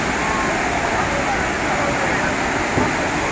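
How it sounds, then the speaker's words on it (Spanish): Cascada Monterrey, a waterfall in Salcoatitán, Sonsonate, El Salvador, gives a steady broadband rushing roar of falling water that stays constant throughout, with no talk over it. "Cascada Monterrey, Salcuatitán."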